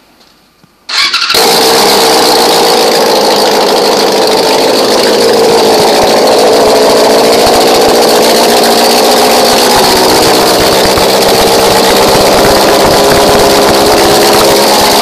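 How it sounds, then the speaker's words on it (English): A 2005 Yamaha YZF R6 sport bike with an open header fires up after a brief quiet moment, then runs loud and steady with a raspy, high-pitched exhaust roar close by. "Motor does run. It's just open header, so it's kind of loud."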